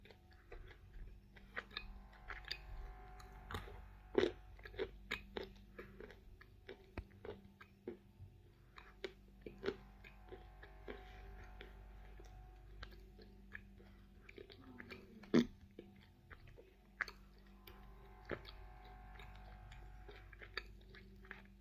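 Edible clay being chewed slowly and at length, with faint, soft crunches and sticky mouth clicks spaced irregularly over a quiet, close background.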